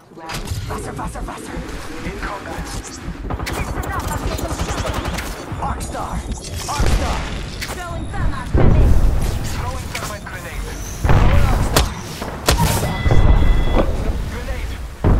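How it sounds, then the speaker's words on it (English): Rapid gunfire and impacts from a squad firefight in the battle-royale shooter Apex Legends, loud and dense with bursts throughout, with a voice speaking over the action. "I'm taking fire."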